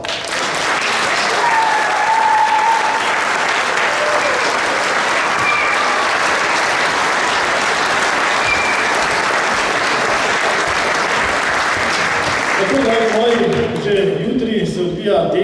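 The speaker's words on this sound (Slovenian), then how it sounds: "Zato mislim, da je čas za en velik aplavz" A large crowd applauds steadily and loudly for young skiers and biathletes at a charity snow event in Gorje, the clapping sustained throughout before fading near the end as a voice begins.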